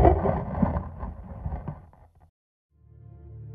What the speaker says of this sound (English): this is the sound of a space probe landing on a giant cosmic snowball that is tumbling through space